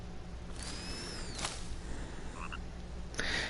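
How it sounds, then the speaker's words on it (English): Frogs croak in the woodland game The Forest. A few clear croaks and chirps sound at moderate distance over a soft ambient background, with no talking. "You can see, you can hear the frogs."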